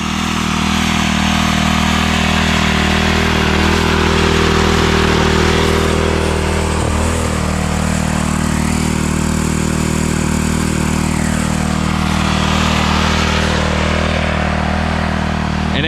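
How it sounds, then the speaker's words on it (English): A pressure washer runs as an inline pump draining a Viking Legacy 2 spa hot tub, droning in a loud, steady engine-like hum with a constant low tone that fills the whole stretch up close. "So I hooked up the pressure washer, kind of like an inline trash pump."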